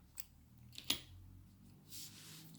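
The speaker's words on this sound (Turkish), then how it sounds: "Bir zincir çektim ve ipimi kesiyorum." Scissors snip through knitting yarn after a crochet join, giving one quick crisp cut in the middle, with faint handling rustles before and after in a quiet room.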